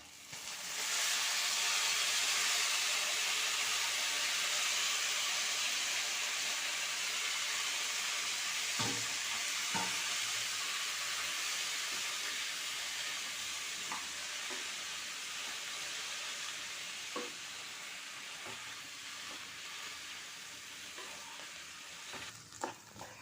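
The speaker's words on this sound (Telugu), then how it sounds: "పప్పులు కొంచెం దోరగా వేగాక మనం ఇందులోనే ఆకు కూడా వేసుకోం." Lentils, then coriander leaves, fry in a pan for a chutney, giving a loud, steady broadband sizzle that eases slightly over time, with a few soft knocks of stirring near the end and no talking.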